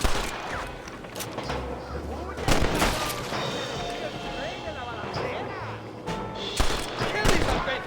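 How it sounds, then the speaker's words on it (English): Gunfire in the Red Dead Redemption video game, a loud fusillade of overlapping shots and sharp bursts from attackers firing down from a cliff, with shouting voices and battle clamor throughout. "They're shooting down on us!"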